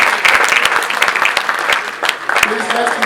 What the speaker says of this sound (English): Please let's keep clapping for them.